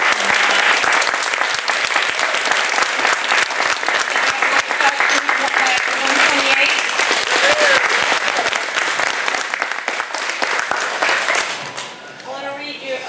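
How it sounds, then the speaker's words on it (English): Loud, sustained applause from a big audience with some cheering at a Veterans Day event outside a Walmart, continuous for several seconds before fading, a voice briefly audible near the end. "Please give them a round of applause."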